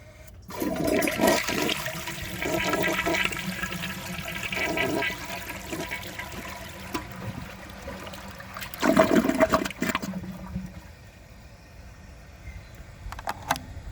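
A 1987 Kilgore Aladdin toilet flushes with a loud, rushing surge of water that swells over several seconds, then gurgles and trails off into a quieter refill trickle.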